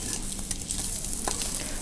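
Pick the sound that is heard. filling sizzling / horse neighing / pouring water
filling sizzling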